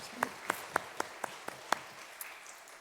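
A church congregation claps in praise, the claps faint and distant, landing in a fairly even rhythm of sharp hits that fade out after a couple of seconds.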